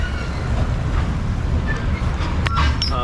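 A train rolls past close by, giving a steady, loud rumble with rail noise and a brief squeal near the end.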